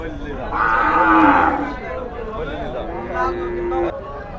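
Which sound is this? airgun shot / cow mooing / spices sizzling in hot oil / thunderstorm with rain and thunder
cow mooing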